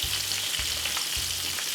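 Beets fry in a pan on a stovetop over low heat, a steady soft sizzle with a faint low humming pulse repeating underneath.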